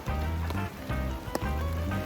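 Steady rain falls in a back garden where a tent is about to be pitched, a close, continuous patter on surfaces with a few louder drops standing out.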